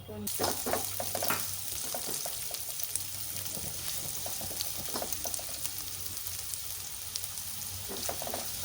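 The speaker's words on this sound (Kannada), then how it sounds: "ಅಣಬೆ ಸ್ವಲ್ಪ ಫ್ರೈ ಮಾಡ್ಕೊಳ್ಳೋಣ." Mushrooms fry in a pan on the stove for a mushroom curry: a steady, close crackling sizzle lasts throughout, broken by occasional stirring scrapes and small pops.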